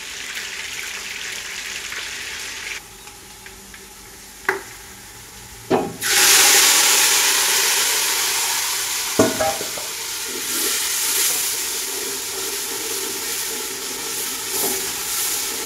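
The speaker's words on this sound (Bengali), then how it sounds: "এখানে আমি পেঁয়াজগুলো ফ্রাই করতেছি" Onions frying in oil in a pan while cooking fish biryani, a continuous close sizzle that swells louder partway through, with a few sharp clanks of a utensil against the pan and no speech.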